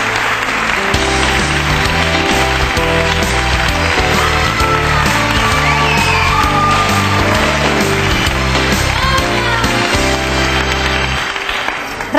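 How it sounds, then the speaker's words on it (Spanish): Studio audience applause for a guest on a Spanish daytime talk show, loud and continuous clapping over a steady backing music track, sustained for the full length without pause. "Un aplauso para Raquel"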